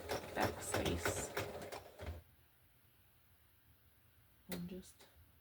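A sewing machine set to a 3.5 stitch length runs steadily for about two seconds, joining a flannel sleeve onto a hoodie. It stops, and a short second burst follows near the end, with quiet between.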